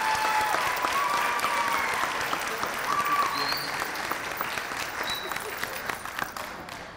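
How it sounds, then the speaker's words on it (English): Parents and guests at an elementary school sixth-grade graduation ceremony applaud a student, sustained crowd clapping that slowly thins toward the end, with faint cheers and chatter mixed in. "Give her a round of applause."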